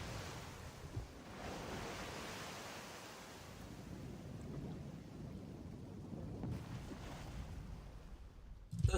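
Rolling video game water waves surging and washing in a steady, low roar with a few louder swells, fairly quiet and unbroken, no voices.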